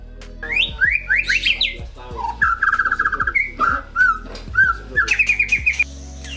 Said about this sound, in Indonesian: ternak burung murai seperti ini